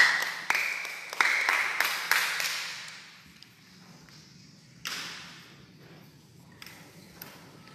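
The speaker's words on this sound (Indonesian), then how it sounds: "berikan tepuk tangan buat Kila" A small group applauds for Kila at a Bible study gathering in an orphanage, a brief burst of claps in the first few seconds that quickly fades to a quiet room with a few scattered claps and thuds.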